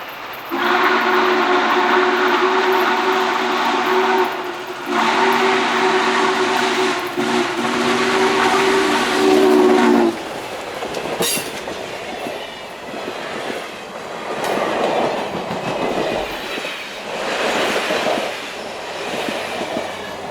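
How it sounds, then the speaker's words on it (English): A steam locomotive, N&W 611, blows its whistle in long sustained blasts for several seconds, then rumbles past on the Buckingham Branch Railroad with clattering wheels and rushing noise, loud and close. "watch as the train dashes out of Goshen"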